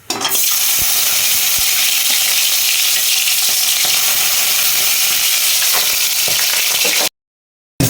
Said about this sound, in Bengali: দুটো লঙ্কা আর এই বেগুনটা ভেজে নিচ্ছি